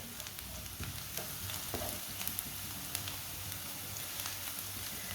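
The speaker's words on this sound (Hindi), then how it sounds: "प्याज को ना थोड़ा सा पकाने से इसका कच्चापन ख़त्म हो जाएगा" Onion fries in a pan for winter kebabs, a quiet, steady sizzle with small crackles and the occasional stir, close and with no talking.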